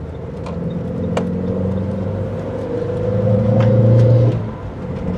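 MG Maestro 2.0 EFi car engine driving on a road, held in the mid-range: a steady, close interior drone and rumble that swells slightly toward the end before easing off, with no talk.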